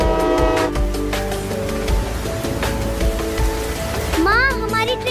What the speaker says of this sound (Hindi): पापा सुनिए, ट्रेन की सीटी आ रही है।